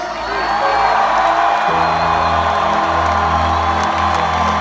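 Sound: concert crowd cheering and whooping

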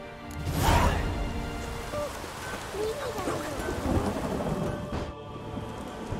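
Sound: rain and thunder in the video game The Witcher 3

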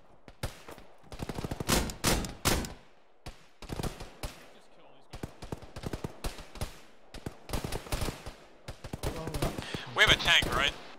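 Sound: gunfire from long-range shooting in Arma video game

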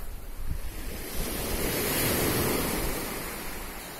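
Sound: sea water and surf near a cliff

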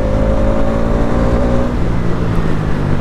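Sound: motorcycle engine revving with throttle blip during clutchless downshift

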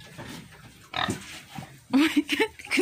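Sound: male pig grunting on a farm

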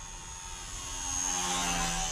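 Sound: HobbyZone Super Cub RC airplane brushed electric motor

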